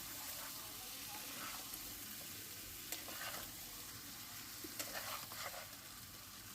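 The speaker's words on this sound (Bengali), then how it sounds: "আবারও একটু আলুর দমটা কষে নেবো মশলার সাথে ভালো করে" Potatoes being stir-fried with spices for aloo dum, a soft steady sizzle with intermittent spatula scrapes and stirs against the pan, fairly faint.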